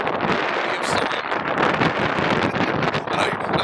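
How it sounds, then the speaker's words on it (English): Steady, loud wind buffeting a microphone outdoors, a continuous broadband roar with gusty swells and no clear voices. "It's too windy down here."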